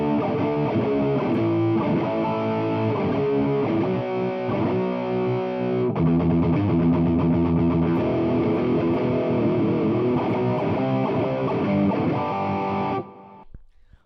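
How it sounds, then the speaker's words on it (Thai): A heavily distorted electric guitar plays sustained chords and riffs with a saturated amp tone, continuous and loud until it cuts off near the end. "เดี๋ยวผมลองหาเสียงแตกดูสิ อันนี้จะเป็นเหมือน ENGL นะครับ"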